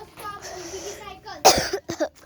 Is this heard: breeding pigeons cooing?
no